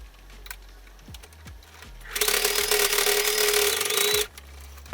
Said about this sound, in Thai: เราก็จะนำไปเย็บด้านบนให้ติดกันเลยค่ะ